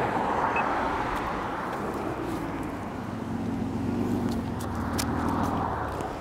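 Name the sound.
cars driving down a hill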